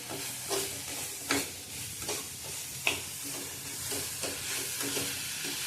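Coconut and sugar mixture being stirred in a pan for a traditional fresh coconut vadi, with a steady soft sizzle broken by repeated scraping strokes of a spoon, close and moderately quiet, no voices.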